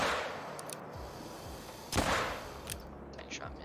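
A single sharp rifle shot in TheHunter: Call of the Wild, hunting gators in Mississippi, cracking loudly midway and trailing off in a short echo over quiet outdoor ambience.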